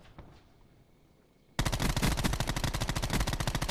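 The Daemon 3XB gun in Black Ops 4 opens up after a quiet moment, a loud, rapid stream of evenly spaced automatic shots continuing to the end without pause.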